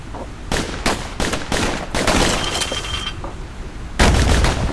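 Dual slinger pistols firing in the video game Bastion, a quick run of sharp, loud shots in short bursts, with a heavier blast near the end.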